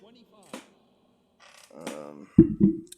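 Loud creaking and thudding of a desk chair shifting under a seated gamer, two heavy bursts close to the microphone after a quiet stretch with faint voice sounds.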